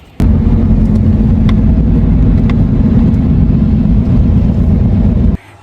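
Steady, loud, close rumble of a car interior while driving home, starting abruptly and holding an even low drone before cutting off near the end.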